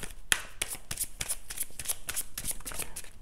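Tarot cards being shuffled by hand up close, a rapid series of crisp riffling flicks and slaps in an irregular rhythm, with no voices.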